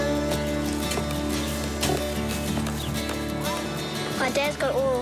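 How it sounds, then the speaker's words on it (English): Horses on an off-grid rural property in New Zealand, with hoof clip-clops and a brief whinny near the end heard under steady ongoing talk and a constant low hum. "My dad's got all the horses out there."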